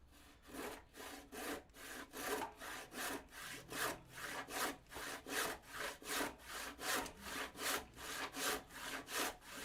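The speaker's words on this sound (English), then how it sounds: "That's why we're using a handsaw." A handsaw cuts through old wood riddled with nails in steady back-and-forth strokes, each one a rasping scrape. About two strokes a second, close and clear, with no talking.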